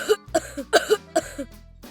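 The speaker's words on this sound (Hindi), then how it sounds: "मुझे खांसी आ रही है।" Four quick, voiced coughs in an even rhythm, close and clear, with short pauses between them.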